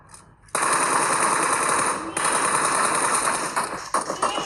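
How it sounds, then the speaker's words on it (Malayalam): A loud, sustained burst of rapid automatic gunfire from a video game, starting after a brief quiet moment and rattling on for about four seconds. "തുമ്പി വെടി വയ്ക്കുമെന്ന്"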